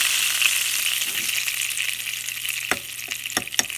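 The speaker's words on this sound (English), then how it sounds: "The mustard seeds, when they get hot, begin to pop." Mustard seeds crackle in hot oil for a spiced cashew snack, a steady bright sizzle running throughout with a few sharp, close pops breaking out near the end.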